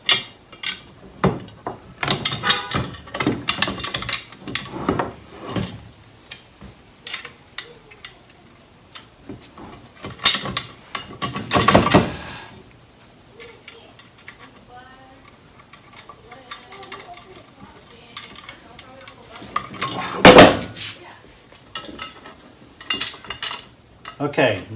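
Nut being threaded onto a bolt while installing a Husky tow bar on an FJ40 Land Cruiser: scattered close metallic clicks, rattles and taps in uneven bursts, with occasional quieter handling noise between.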